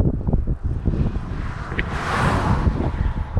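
A light breeze blows while cycling through the mountains of Kyrgyzstan, rushing over the microphone as a steady, close, rumbling wind that swells slightly toward the end.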